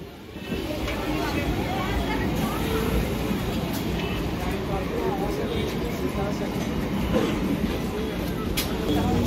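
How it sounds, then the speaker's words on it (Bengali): A train pulls out of Baghajatin rail station on a rainy night, a steady low rumble and clatter carrying on over surrounding crowd noise and rain. "ট্রেনটা বেরিয়ে যাচ্ছে দেখো, জাস্ট ট্রেনটা বেরিয়ে যাচ্ছে"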